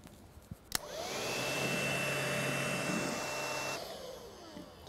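A cordless vacuum cleaner pulls fine dust off a hard floor, its motor starting with a click and settling into a loud, steady whine with a roaring airflow for a few seconds before shutting off.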